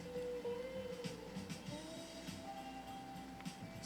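A restored 1923 Singer 66-1 sewing machine stitches through six layers of commercial upholstery fabric, a quiet, steady mechanical whir with faint rhythmic needle clicks running throughout.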